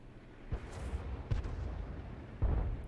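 A tank cannon fires a round in a multiplayer tank battle game, heard as a few deep, booming low thuds spaced about a second apart, the loudest near the end, over a steady rumbling engine bed.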